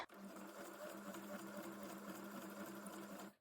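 A sewing machine runs steadily at close range, stitching a leaf shape on a junk journal page. The motor hum and needle rattle are continuous and fairly quiet, then stop abruptly at the end.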